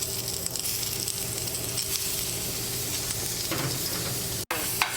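Julienned squash sautéing in a hot pan, a steady, close sizzle and crackle that holds for the whole stretch with occasional stirring scrapes and a brief dropout near the end.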